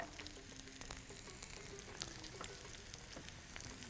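Dried fish dropped into a pan of well-sautéed onions, sizzling and frying steadily with light stirring scrapes, close and alone.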